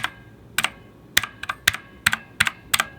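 Keystrokes on an affordable RGB mechanical gaming keyboard, spring recoil ringing faintly after each press: about ten sharp, close clicks arriving in uneven pairs and singles, with no talking.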